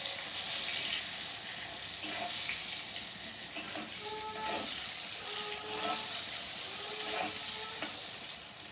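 Eggplant frying in hot oil for a mustard-paste eggplant and hilish dish, a loud continuous sizzle with occasional stirring scrapes and clinks.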